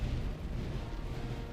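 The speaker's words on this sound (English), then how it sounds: "Oof, oof, artillery, ouch." Artillery fire in the Seven Years War game Master of Command, a dense continuous rumble of booms and blasts, loud and close with no gaps.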